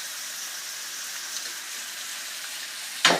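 Chicken stir-fried in a pan with ginger, chilli and garlic for a takeaway-style Chinese curry, a steady close sizzle and hiss, ending in a sharp louder crackle of frying near the end.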